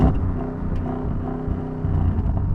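A car engine revs steadily with a deep, rumbling drone, close and fairly loud, with no talking.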